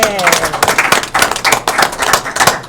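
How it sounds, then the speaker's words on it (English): Board of education meeting attendees clap for the finance team, a lively burst of distinct, uneven hand claps close by, with some cheering mixed in. "Another round of applause for our finance team."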